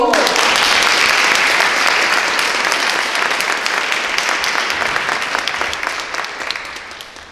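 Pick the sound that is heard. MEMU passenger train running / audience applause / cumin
audience applause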